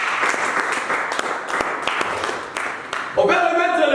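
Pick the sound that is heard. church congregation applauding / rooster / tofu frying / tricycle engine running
church congregation applauding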